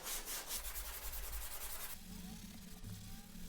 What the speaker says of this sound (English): we're going to go ahead and grab our brush and give it a good wipe down